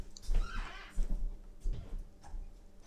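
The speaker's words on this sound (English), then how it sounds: "these are pack horses or mules or something there" Pack horses or mules on a mountain trail let out a loud neigh and whinny close by, with the soft clip-clop of hooves and trail noise underneath.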